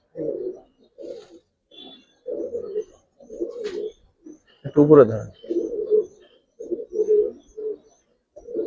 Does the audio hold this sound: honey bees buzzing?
no